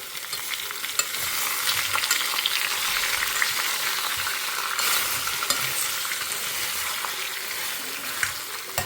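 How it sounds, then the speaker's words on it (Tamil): Curry leaves sizzling in hot oil with darkened mustard seeds during tempering, a loud, continuous crackling fry heard close up, with no talking. "கருவேப்பிலை போட்டுட்டேன்."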